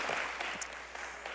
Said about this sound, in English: Just give them one more hand clap.